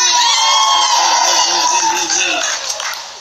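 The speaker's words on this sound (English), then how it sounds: "Everybody cheer for Catherine!" Excited crowd of voices cheering and shouting together for a named person during a live stream, a dense sustained roar of mixed high voices that eases slightly toward the end.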